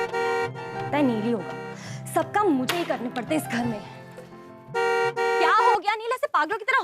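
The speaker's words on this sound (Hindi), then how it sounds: "पागलों की तरह हॉर्न क्यों बजा रहा है?" A car horn honks in flat, sustained blasts at the start and again near the end of a Hindi TV drama scene, with excited voices shouting over and between them.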